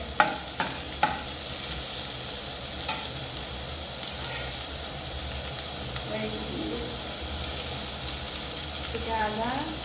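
Ginger and garlic frying in a pan for a mixed vegetable curry, a constant hissing sizzle with occasional utensil clacks and stirring, and voices talking faintly.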